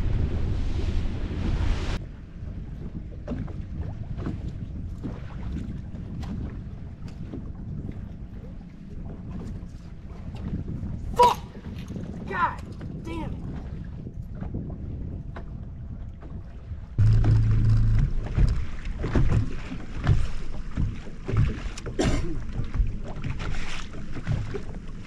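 The motor of a bass fishing boat with a throttle fault runs on open water at Toledo Bend, a steady low rumble under heavy wind buffeting and splashing that surges louder toward the end.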